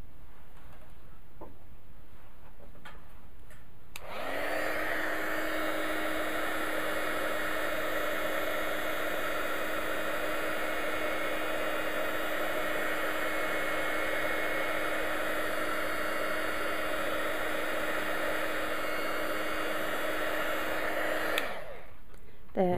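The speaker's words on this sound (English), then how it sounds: "And what we need to do now is just dry that off with a heat gun." A heat gun drying ink on paper switches on after a few seconds of quiet and blows with a steady, loud whooshing hum, then cuts off near the end.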